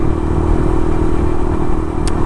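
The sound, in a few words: Suzuki RV125 motorcycle riding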